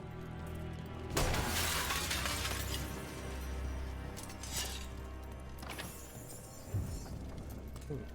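Glass objects smash in the game Dragon Age The Veilguard, several bright crashing shatters with scattered tinkling debris, loud and up close over quiet background ambience.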